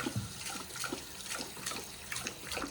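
Water is poured into a bowl as a quiet, steady trickle with small splashes and gurgles, faint and close.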